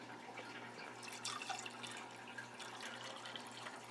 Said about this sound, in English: put it down here in the bottom, and then just fill it up with white vinegar in this one